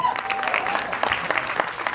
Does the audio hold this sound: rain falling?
no